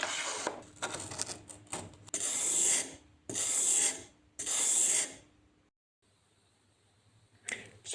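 A plane blade is rubbed on a sharpening stone in rhythmic scraping strokes, a run of close gritty bursts broken by short pauses, then a quieter stretch before one more stroke.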